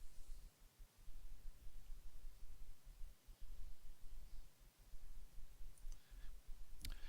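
Mouse clicks while working in MyStatsLab: a few soft, close clicks spaced across a quiet stretch over steady low hiss, with one sharper click near the end.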